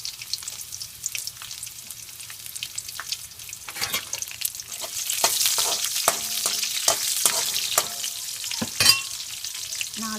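Mustard seeds, urad dal, shallots and dried red chillies fry in sesame oil for horsegram rasam. A soft sizzle grows louder, broken by sharp spoon scrapes and clinks against the pan.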